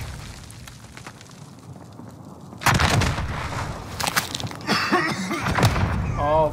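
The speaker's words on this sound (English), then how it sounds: "Throwing frag grenade" A frag grenade detonates in Call of Duty: Warzone with a sudden loud, broad boom partway through, followed by rumbling debris and scattered gunfire, while a player's voice talks over the game.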